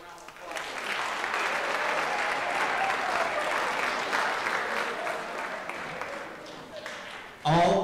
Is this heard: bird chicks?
no